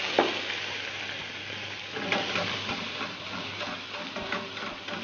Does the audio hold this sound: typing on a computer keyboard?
no